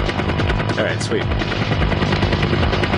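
Rapid gunfire from the PSVR shooter game Operation Warcade, played with the PS Aim controller, rattles continuously and loudly alongside other battle noise, with a voice faintly mixed in.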